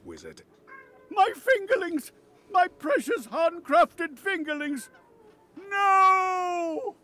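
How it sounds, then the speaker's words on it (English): A house cat gives a drawn-out, fairly loud meow near the end, after a stretch of dramatic character dialogue from a video game. "Apologies if you could hear my cat meowing."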